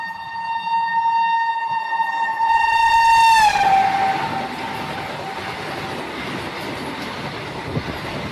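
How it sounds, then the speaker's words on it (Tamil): The Tambaram Amrit Bharat Express stands at Valliyur station and sounds a loud, sustained horn for about three seconds. The horn cuts off and drops in pitch, leaving a low rumble of the train and station ambience. "இப்போ நம்ம ட்ராவல் பண்ணிட்டு இருக்கிற தாம்பரம் அம்ரித் பாரத்"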